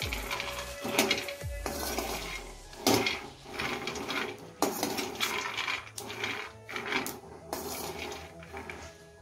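Peanuts are roasted in a pan over a low gas flame and stirred, with repeated close scraping, rattling and clanking strokes in an irregular rhythm and no speech.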